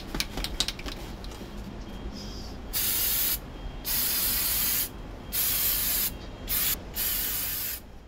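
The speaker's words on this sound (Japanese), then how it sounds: "革に近い質感を出すため、柔軟性のある塗料をスプレーします。" Short bursts of spray paint, flexible coating applied to 3D-printed boot parts, hissing close up in about five separate blasts with brief pauses between them, after some faint tapping and handling noises.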